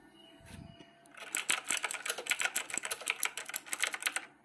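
Fingers type on a computer keyboard nearby in a fast, irregular run of light clicking keystrokes, after a brief quiet pause at the start.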